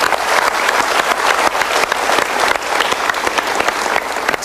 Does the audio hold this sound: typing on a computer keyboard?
no